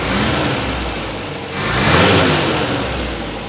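An MGB car engine idling, then revving up once as the throttle is blipped and settling back, loud and close, with no talk.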